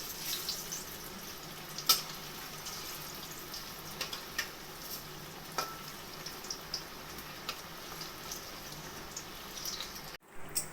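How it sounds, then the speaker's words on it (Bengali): Pakoras frying four or five at a time in hot oil over a low flame, giving a steady, soft, continuous sizzle with occasional faint pops and clinks, fairly quiet and even throughout. "এইভাবে একবারে চার পাঁচটা করে দিয়ে পকোড়াগুলো আমি ভেজে নেবো"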